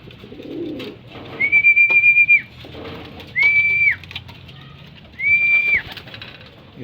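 Racing pigeons cooing close by, with three distinct whistled coo calls spaced a couple of seconds apart over faint background murmur.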